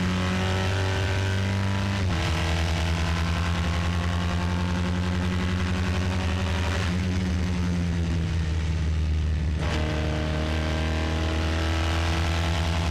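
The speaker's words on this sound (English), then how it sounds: "That kind of beating sound that you hear in the engine note" A loud race car engine drones steadily with a pulsing, beating note during an uphill climb, the pitch shifting as the car shifts gears twice.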